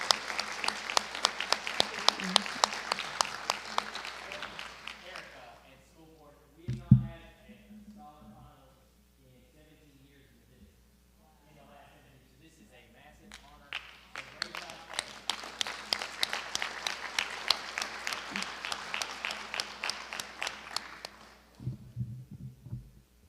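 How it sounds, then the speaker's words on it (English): Applause at a school board meeting in two long bursts, with a pause between them where a voice speaks, then a second sustained round of clapping that fades near the end. "So let's give Samuel a round of applause in his absence."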